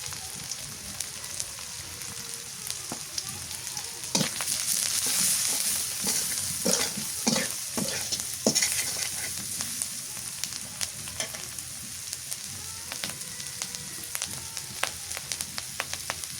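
Garlic, onion and coriander pastes frying in a pot, a dense, even sizzle with scattered spoon scrapes and clicks as the mixture is stirred, close and continuous throughout.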